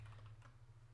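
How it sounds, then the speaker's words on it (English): Fingers tap quickly on a computer keyboard, a short run of soft, close key clicks over a low steady hum, with no talking. "In the text file, we're going to go ahead and type in"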